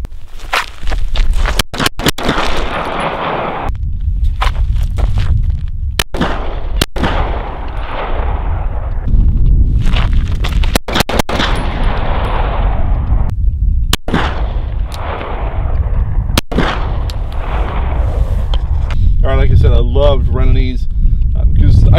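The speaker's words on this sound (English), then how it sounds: "We're going to spend a few rounds on this and see how she works." Gunshots fired at an RE Factor Tactical target on an outdoor range, loud sharp reports spaced irregularly over steady background rumble while someone talks throughout.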